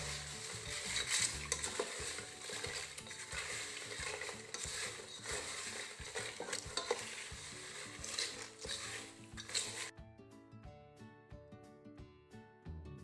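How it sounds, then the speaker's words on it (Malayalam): Chilli pappad pieces are stirred and tossed in a frying pan, with a dense, busy sizzle and repeated rhythmic scraping that breaks off abruptly near the end into quieter tonal sound. "ഇനി നമ്മുടെ പപ്പടം ഇതിലേക്ക് ഇട്ട് കൊടുക്കാം. നന്നായിട്ട് മിക്സ് ചെയ്തെടുക്കാം."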